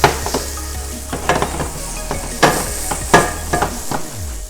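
Vegetables sizzle loudly in a very hot pan for chicken tacos, with a steady frying hiss broken by several sharp clatters as the pan is shaken and the food turned.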